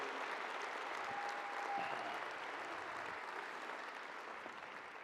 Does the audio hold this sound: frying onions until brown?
no